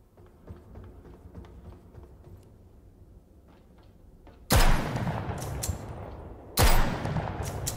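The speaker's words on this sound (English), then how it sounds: "gun sounds are a little bit too loud" Two loud, sharp shotgun blasts from a pulse shotgun in the video game Starsiege Deadzone, spaced about two seconds apart, each followed by a brief ringing tail after a quiet stretch of faint game ambience.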